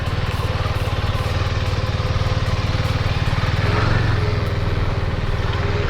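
A Husqvarna Svartpilen 401 motorcycle engine runs steadily at close range, a constant buzzing drone that holds even throughout.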